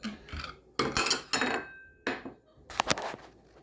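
Egg rolls being placed in a cooking pan give a series of scattered clanks, scrapes and rustles, close and fairly quiet, in irregular bursts with short pauses between.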